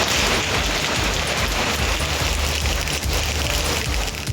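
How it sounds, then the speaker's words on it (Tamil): Heavy night rain during a thunderstorm in the Coimbatore area of Tamil Nadu, a loud, dense, unbroken roar of downpour close by with no voices. "நேற்று பல இடங்களில் கனமழை பெய்தது"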